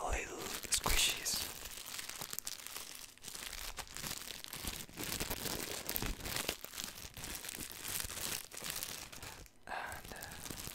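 A small plastic bag holding squishy toys crinkles and rustles steadily up close in a quiet ASMR setting, with soft whispery sounds in between.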